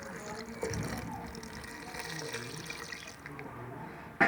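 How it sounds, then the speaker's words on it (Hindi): About a glassful of water pours into a cooking pot of tinda gosht (round gourd and meat curry), a steady, close splashing wash that runs for about four seconds with no one talking. "ये देखिए 1 गिलास के बराबर मैंने इसमें पानी डाला है।"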